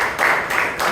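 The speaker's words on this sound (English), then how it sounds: "please give Pradeep and the table topic speakers a big round of applause" Audience applause at a Bangalore Toastmasters meeting, a dense wash of clapping that swells in short waves, steady and moderately loud.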